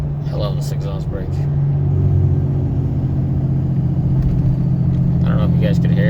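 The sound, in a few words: Ram 3500 Cummins exhaust brake while towing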